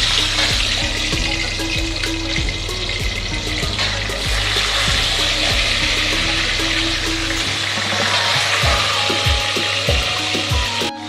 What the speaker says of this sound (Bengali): এবার আস্তে আস্তে মাছগুলো ভাজার জন্য দিয়ে দিলাম।